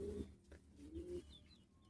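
A bandangan pigeon gives a few low, soft coos close by, quiet and alone with no talking.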